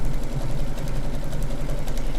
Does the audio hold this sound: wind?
no